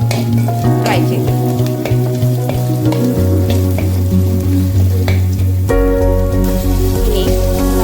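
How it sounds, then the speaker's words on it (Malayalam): Green chilies and curry leaves fry in a pan for a breadfruit masala, giving a loud, steady sizzle. Stirring scrapes and taps break through the sizzle, and a low hum runs beneath it. "നല്ലോണം ഫ്രൈ ആയി വന്നതിന് ശേഷം പച്ചമുളകും കറിവേപ്പിലയും ആഡ് ചെയ്യാം"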